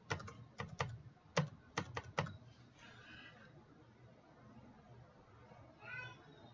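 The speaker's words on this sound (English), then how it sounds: "here we're going to type in servers" Someone types on a computer keyboard with a quick run of separate key clicks, then pauses while a person speaks quietly in the background.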